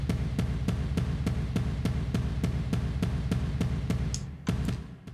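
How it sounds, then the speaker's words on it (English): Kick drum sample drenched in heavy reverb from a metal production, pounding in a steady, evenly spaced pulse of deep booming thuds, each tail blurring into the next, before a couple of sharper louder hits near the end. "let's listen to the kick sample here"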